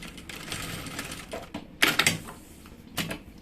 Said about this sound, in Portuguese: Ó, vou costurar bem centralizado na lateral.